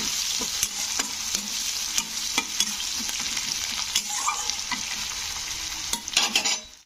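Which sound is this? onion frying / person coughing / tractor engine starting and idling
onion frying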